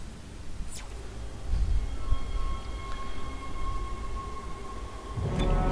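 A tram in the game Dead Space rumbles and grinds along its track, a steady heavy mechanical drone with faint tonal whines and clanks, swelling slightly toward the end.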